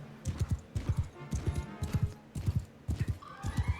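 Horse galloping in the video game Mount & Blade II Bannerlord, with steady rhythmic clip-clop hoofbeats in quick repeating bursts, close and loud, and neighing mixed in among them.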